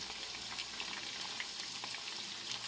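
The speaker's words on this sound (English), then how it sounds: "I'm just going to go ahead and add them in the pan. Just dump them as so, and give them a chance to go ahead and fry" Sausages frying in a pan of olive oil with potatoes and green pepper, a steady bright crackle and sizzle with scattered pops, close and continuous without talk.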